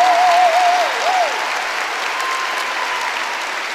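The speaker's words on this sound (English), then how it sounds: "How about a round of applause for all the things?" A TEDx audience delivers a steady round of applause, broad and even, with a voice briefly heard at the start before the clapping carries on alone.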